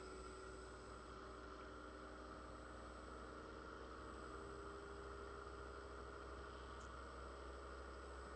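A rotor spins at steady test speed on a balancing rig, giving a constant low mechanical hum with a steady high whine, unchanging throughout with no talking.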